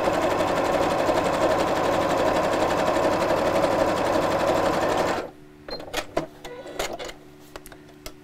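Sewing machine running a stretch zigzag stitch on a test piece of fabric, a fast, steady mechanical whirr for about five seconds that then stops, followed by scattered soft handling clicks and rustles.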